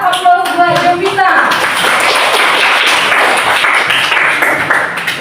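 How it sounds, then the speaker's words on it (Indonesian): A classroom of students breaks into lively applause for a classmate, many hands clapping together in a steady, close wash that tapers slightly toward the end. "Berikan aplaus buat Jovita."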